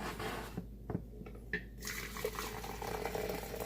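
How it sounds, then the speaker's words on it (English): Hot water pours into a French press of coffee grounds in a steady, splashing stream that runs for a couple of seconds, close by, with no talking. "I like to put about an inch or two of hot water in and give it another stir."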